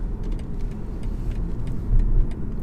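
Diesel engine of a 2020 BMW 520d estate driving on the road, a steady low rumble of engine and road noise that swells slightly near the end, with no voices.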